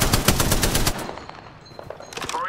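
Machine gun fire in Apex Legends, a loud rapid burst of shots for about a second, then scattered softer shots and game effects.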